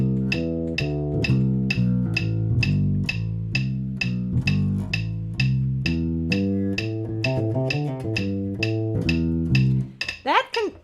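Jazz electric bass walks through a continuous legato line with no gaps between notes, steady swinging pulse, close and clear, ending in a brief slide or noise.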